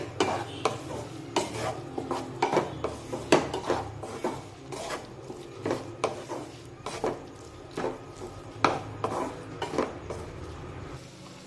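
Repeated scraping clinks of a utensil stirring moth bean lentils and salt in a metal pan, a steady irregular rhythm of close knocks and scrapes with no talking.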